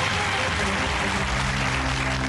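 A studio audience on a UK quiz show bursts into applause after a contestant reaches £64,000, a dense continuous wash of clapping throughout.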